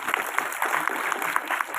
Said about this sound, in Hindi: अपने लिए फिर से तालियां बजा दो